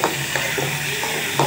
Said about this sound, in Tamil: அதையும் சேர்த்து வதக்கணும்.